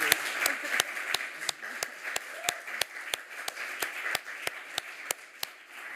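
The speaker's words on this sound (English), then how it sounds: "An applause to you" An audience claps for a hostess at an award ceremony in the Swedish Embassy in Copenhagen, a steady spread of hands with a few loud, sharp near claps standing out in a fairly regular rhythm.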